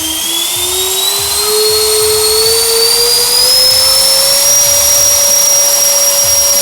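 Electric ducted fan motors on an RC Gulfstream G650 model jet run at a steady, loud high-pitched whine that slowly rises in pitch as they spool up, continuous throughout with no talking.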